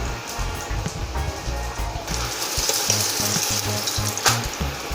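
Paratha roasting in a pan with ghee gives a soft, steady sizzle and crackle close by, with faint clinks and scraping and no talking.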